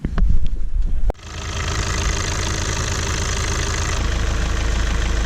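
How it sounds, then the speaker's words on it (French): A sailboat's inboard engine idles after repair, starting with a sharp thump and then settling into a steady, even, close-up rumble with a faint knock running through it. "le moteur ronronne comme un œuf à nouveau"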